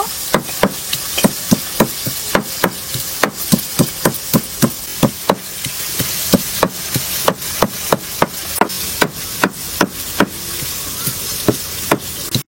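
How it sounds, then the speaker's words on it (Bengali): Tomato being crushed on a grinding stone in an outdoor Santali village kitchen: a long, steady run of sharp, close knocks at an even pace, heard alone without voices. "টমেটোটা ভালো করে বেটে নেব।"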